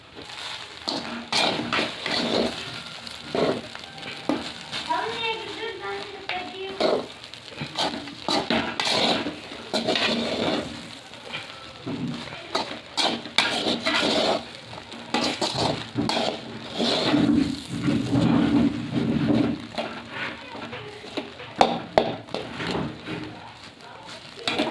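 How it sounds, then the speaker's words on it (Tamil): A spoon scrapes and clatters steadily in a pan as chicken rice with pepper is mixed at home, with repeated metallic clinks over a long stretch and someone speaking at times. "இப்போ நம்ம பெப்பர் போட்டு எல்லாத்தையும் மிக்ஸ் பண்ண போகிறோம்"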